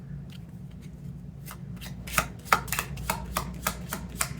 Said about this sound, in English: Let me get two cards here.